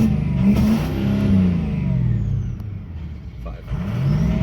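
A 2003 Ford Excursion with a 6.0 engine, left sitting four years and running rough, revs up and down close by in a loud, steady drone that swells and eases in waves.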